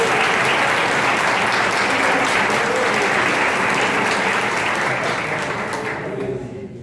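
A church congregation claps together in a dense, sustained round of applause filling the room, steady and loud before tapering off at the end, with faint voices beneath.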